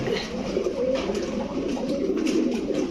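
Pigeons coo steadily in soft, low, continuous throaty calls at a crowded pigeon market, with many birds overlapping close by and no talk.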